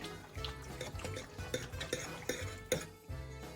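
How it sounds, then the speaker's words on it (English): A spoon stirring butter and freshly grated Parmesan into cooked polenta in a pot, giving steady soft scraping and thick mixing sounds with a few sharper clinks of utensil against the pan, close and without talking. "I'll add 2 tablespoons of butter to the polenta and half a cup of freshly grated Parmesan cheese. And mix that in."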